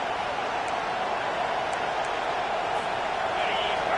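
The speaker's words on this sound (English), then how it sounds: "The roar of the crowd trying to fuel this defense to keep them pinned in their own end." A stadium crowd in the NCAA 25 college football video game roars in a dense, steady wash of noise that holds at the same loud level throughout.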